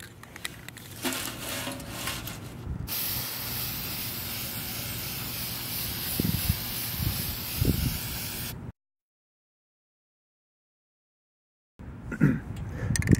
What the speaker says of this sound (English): just some spray paint I picked up a hardware store.